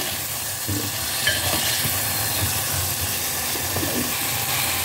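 Green sundaikkai (turkey berries) sauté in a pan, giving a continuous close sizzle and hiss with a few soft stirring scrapes, with no voices.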